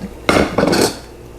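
Stir-fried beef tipped into a pot of Thai red curry with pumpkin, two quick close scraping clatters of a utensil against the pot.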